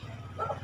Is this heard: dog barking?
yes